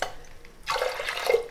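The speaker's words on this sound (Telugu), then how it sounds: "నేను ఇన్ని వాటర్ పోసేస్తున్నా" Water is poured into a bowl of washed toor dal; after a quiet start, a splashing, bubbling pour begins and carries on steadily to the end.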